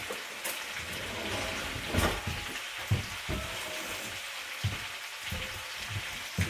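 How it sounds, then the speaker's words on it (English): A teaspoon of butter sizzles and crackles steadily in a hot pan, a continuous close frying hiss with scattered pops and a few soft clinks, no talking. "Here we go with the butter."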